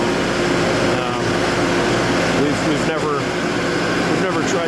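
A 2016 Bobcat T870 track loader runs steadily nearby with a constant engine drone and hydraulic hum while a person talks over it throughout.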